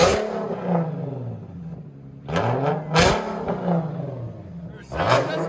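A 2014 Infiniti Q60 S with a 3.7L V6 and straight-pipe dual exhaust revs hard in several loud, close bursts, each rising and falling in pitch, separated by short rumbling dips.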